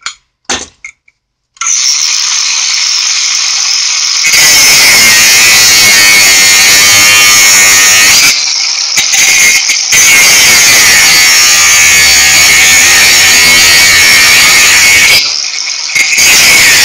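A Makita 18V brushless XAG03 angle grinder cuts through stainless steel with a loud, steady high-pitched whine and grinding screech, running continuously for long stretches with a few brief pauses where the cut stops.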